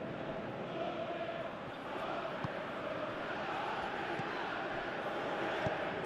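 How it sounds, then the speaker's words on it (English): Stadium crowd in the football video game Pro Evolution Soccer 2018, a steady dense roar of many voices rising and falling slightly, with a commentator talking over it. "you can feel and hear how the crowd are reacting to all of this"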